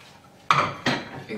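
Dishes and cutlery clatter as a kitchen is tidied, with two sharp, close clinks of crockery and metal, a faint knock trailing after.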